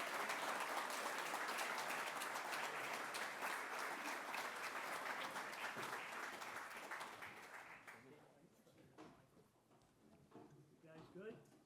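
Sustained applause at the North Hempstead inauguration welcomes newly elected councilman Yaron Levy, dense clapping that fades after about eight seconds into a quieter room where a voice begins speaking.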